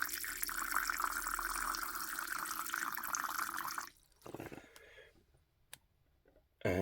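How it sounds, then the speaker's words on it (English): Water is poured to top up a tarantula's water dish, a steady close trickle for about four seconds that stops abruptly, followed by a few faint clicks and small handling noises. "He does, so I'm going to top up his water."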